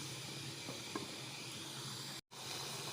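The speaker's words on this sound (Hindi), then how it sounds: "देखिए ये फ्राई हो रहा है" Minced meat and chicken frying in tomato paste in a pan, giving a steady, moderately loud sizzling hiss that runs without a break, with a brief dropout near the end.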